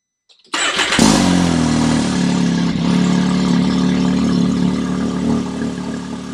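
Engine of a 2022 Can-Am Maverick X3 side-by-side fitted with an Evo clutch kit starts abruptly and revs, then holds a loud, steady, throaty idle with a buzzy exhaust note close to the microphone.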